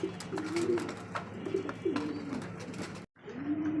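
Domestic pigeons coo nearby in repeated low, rolling phrases. The calls stop in a brief gap of silence and then the cooing resumes.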